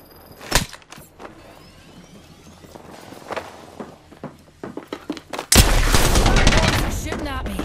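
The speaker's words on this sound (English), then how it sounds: "Shooting at me." Gunfire in a match of Apex Legends, with a few sharp isolated shots and footsteps followed by a sustained loud burst of rapid fire near the end.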